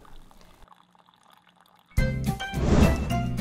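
Water spills and pours from an overfilled coffee maker, starting abruptly after a quiet moment as a loud, close gush and trickle that keeps running.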